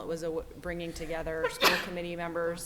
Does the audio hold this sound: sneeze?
yes